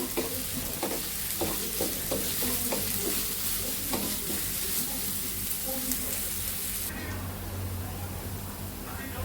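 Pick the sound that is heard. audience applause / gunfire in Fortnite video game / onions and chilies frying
onions and chilies frying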